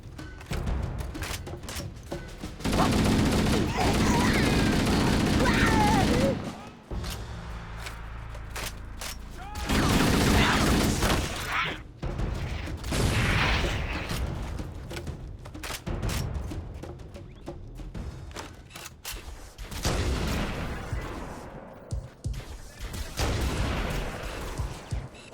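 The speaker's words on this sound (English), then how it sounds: "let's be covert with the loudest sniper of all time." Heavy, booming rifle fire from Halo: Combat Evolved Anniversary rolls through in long, loud volleys separated by short lulls, with a voice talking over parts of it.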